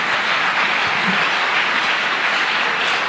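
A church congregation applauds and cheers for the Lord in a steady, dense wash of clapping and crowd noise that stays loud and unbroken throughout.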